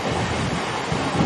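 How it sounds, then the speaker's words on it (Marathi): A fast commuter train rushes past near Mankhurd railway station in Mumbai, a close, loud, continuous rumbling roar of wheels and carriages with a steady wash of noise throughout. "फास्ट ट्रेन आहे वाटते ही. गेली बघा."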